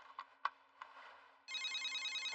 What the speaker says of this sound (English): Mr. Matsuda, it's okay for you to turn on your cell phone now